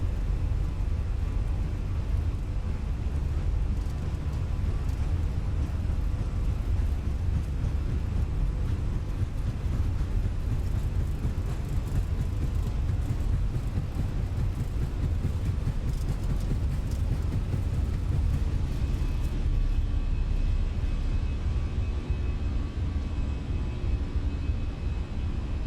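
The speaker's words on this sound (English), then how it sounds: "You like buzz noise from the engines." Steady airliner engine drone from a Fenix A319 in Microsoft Flight Simulator 2024, a continuous broadband buzzing roar holding level for the whole stretch without any talking.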